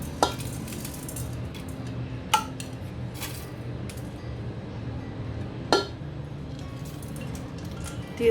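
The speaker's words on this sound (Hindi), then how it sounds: "तो ये सारे खड़े मसाले इसमें चले गए" Whole spices, including bay leaves, drop into a hot pot of oil for paya shorba, giving a steady low sizzle broken by a few sharp metallic clinks of a utensil against the pot.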